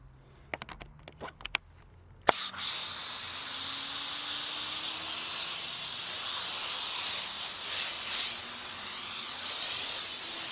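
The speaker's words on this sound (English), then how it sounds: "I'm going to actually foam up one more time so I can let it soak up real good" A few sharp clicks of a foam sprayer, then a loud steady hiss of foam spraying onto a Toyota RAV4 at a car wash, continuing nearly ten seconds with slight surges.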